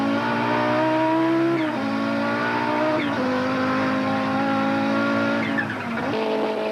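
Onboard view from an Audi race car in a 1992 Wesbank Modifieds race at Killarney, its engine roaring loud and steady throughout, with pitch dropping at gear changes around two, three and six seconds.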